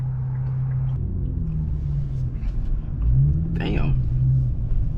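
An Infiniti Q50S turbo car driving, a steady low engine rumble from inside the cabin that swells briefly as it revs, with a voice heard over it.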